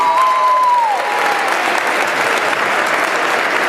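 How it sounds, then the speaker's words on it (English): Crowd at a girls' high school basketball game, LCHS vs Greenbrier East, applauding the First Lady in a gym. The applause is loud and steady throughout, and a brief whistle-like tone fades out in the first second. "y'all give her a big round of applause"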